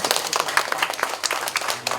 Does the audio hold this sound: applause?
yes